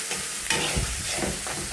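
Garlic and ginger with spices sizzle in hot oil in a home kitchen, a dense, steady frying hiss with soft stirring scrapes, close and continuous.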